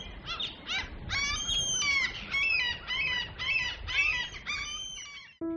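Cartoon hens clucking and squawking on a farm, a loud, busy run of repeated bright calls that keeps going for several seconds before cutting off sharply into a short tone.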